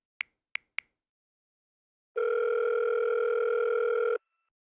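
Three quick taps are followed by a single steady electronic telephone tone that holds for about two seconds before cutting off, heard while placing a call.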